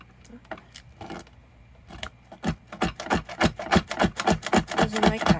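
Scissors or a blade snip repeatedly through the fabric edge of a Victorian journal decal, a close series of quick crisp cuts that grow louder and faster toward the end.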